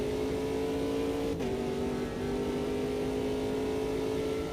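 Ginetta race car in Automobilista 2, its engine holding a steady droning tone with one brief dip in pitch partway through, loud and close with no talking.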